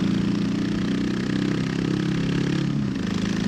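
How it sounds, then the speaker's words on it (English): Loud motorcycle with an overly loud aftermarket-style exhaust idling steadily nearby, a deep, throbbing, continuous rumble that holds even for several seconds with a slight dip near the end. "I've got to do something about this exhaust, man. It's fucking way too loud."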